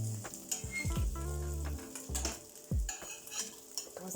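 Mini rice omelettes cooking in a pan, a soft sizzle under repeated scraping and clinking of a utensil against the pan as they are stirred and turned, close and fairly quiet, with no voices.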